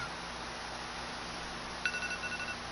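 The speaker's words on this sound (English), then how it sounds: "Oh, hey, phone." A telephone starts ringing about two-thirds of the way through, a steady electronic tone that cuts in over a constant hiss of background noise, with no talking.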